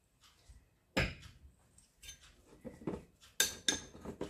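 Salted lard mixture being stirred in a bowl for a Ukrainian thin-lard bread snack, heard as a few scattered clinks and scrapes of utensil on bowl, one sharp knock early and a cluster of louder taps near the end.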